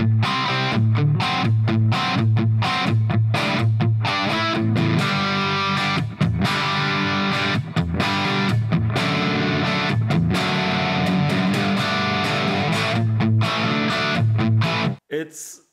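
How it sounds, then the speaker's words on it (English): An electric guitar with a humbucker pickup in the bridge position plays through a Hughes & Kettner Black Spirit 20 amp, producing loud distorted chords and riffs with rhythmic stops, ending in an abrupt cut. "check what it sounds like with humbucker guitar"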